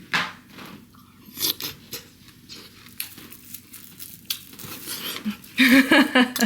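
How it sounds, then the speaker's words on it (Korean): Someone eats shaved ice made with yellow watermelon, with soft crunching and slurping bites close by, growing louder and busier toward the end. "빙수를 한번 먹어보겠습니다."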